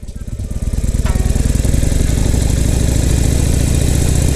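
A motorcycle engine idles with a steady throbbing pulse, then its revs climb slightly as the throttle is slowly rolled on while the clutch is let out in first gear, loud and close throughout.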